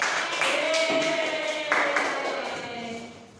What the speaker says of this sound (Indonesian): Bisa kasih tepuk tangan.